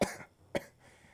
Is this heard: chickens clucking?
no